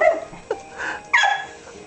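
A dog gives a few short sharp barks and yips, close and moderately loud, spaced irregularly over two seconds.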